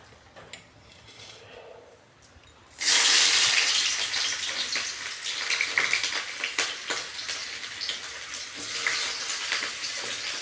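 Chopped onion and chili hit hot oil in a wok, bursting into a loud, steady sizzle that crackles and hisses continuously after a quieter start.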